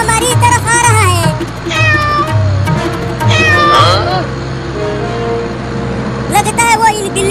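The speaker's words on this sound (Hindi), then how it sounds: "एक बिलोटा हमारी तरफ आ रहा है" A cartoon tomcat meows repeatedly in drawn-out, wavering calls, loud and close over a continuous car engine rumble, with a voice talking in between.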